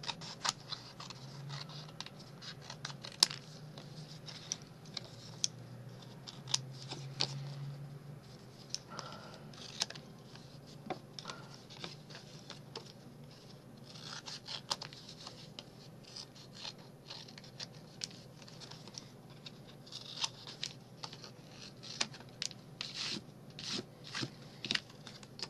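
Scissors snipping paper along a drawn line, with many small irregular snips and rustles of paper handling, quiet and close, with brief pauses between cuts.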